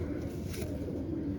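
Pigeons give a soft, low cooing at close range, a brief murmuring call over a faint background hum.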